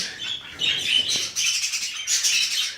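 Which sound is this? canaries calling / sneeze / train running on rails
canaries calling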